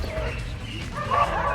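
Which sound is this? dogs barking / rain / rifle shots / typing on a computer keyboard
dogs barking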